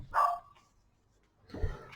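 Dogs barking at passersby, two separate barks about a second and a half apart, the first sharp and yelping, the second lower, heard at moderate distance indoors.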